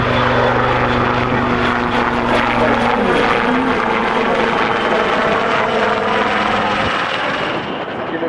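An MBB-Kawasaki BK 117 helicopter flies past at an air show, its rotor and turbine making a loud, steady roar that holds for several seconds and fades slightly at the end. No speech is heard.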